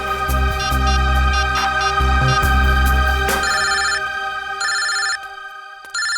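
A telephone rings loudly with repeated electronic ringtone bursts, continuous at first and then in spaced pulses, with no talk over it.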